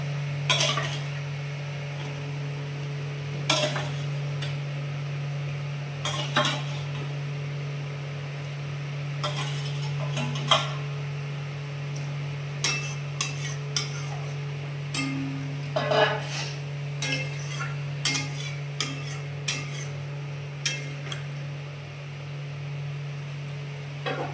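Fried fish is added to a spiced curry with whole garam masala in a pan, with scattered scraping and clinking spatula strokes over a soft steady simmer and hum.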